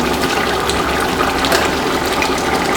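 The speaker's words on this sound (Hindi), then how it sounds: "चावलों के लिए पानी उबल रहा है।" A pot of water for biryani rice rolling at a full boil, a continuous loud bubbling and churning wash with no pauses, close by.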